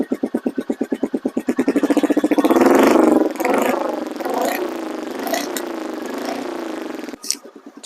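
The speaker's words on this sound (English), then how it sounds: "It's got a nice little growl to it." A Royal Enfield Meteor motorcycle idles close to the microphone near its exhaust, a steady low thumping putter that swells briefly into a fuller growl before settling back, ending with a short clunk.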